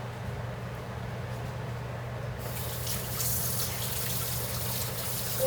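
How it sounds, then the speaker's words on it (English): Water running from a kitchen tap while butter is washed off hands, a steady trickle that grows into a louder, brighter gush partway through. "I'm gonna wash the butter off my hands right quick."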